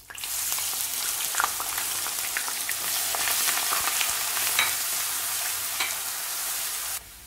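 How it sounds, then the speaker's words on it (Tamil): Curry leaves and ground onion sautéing in hot oil for chettinad chana masala, a steady close sizzle and crackle of frying throughout with no talking. "கருவேப்பிலை கொஞ்சம் தாளிச்சுக்கலாம்."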